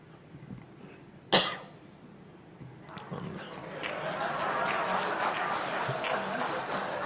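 A single sharp cough from a speaker at a podium during a formal political party gathering in Indonesia, followed by rising crowd applause that grows and continues to the end.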